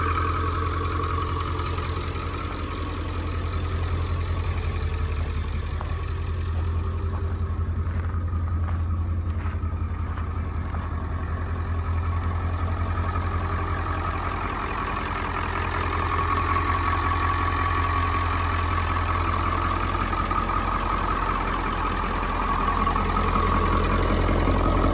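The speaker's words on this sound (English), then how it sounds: "The engine's warming up right now, or just getting the idle settled in right now" A school bus converted to a skoolie idles while warming up, a deep steady low rumble that holds for the whole stretch with slight swells in level and no voices.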